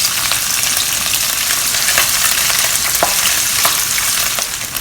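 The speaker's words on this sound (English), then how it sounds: "put the cuttlefish in and fry them until crispy." Cuttlefish fry in hot oil over medium to low heat, giving a loud, dense, continuous crackling sizzle close by, with occasional sharper pops and no voices.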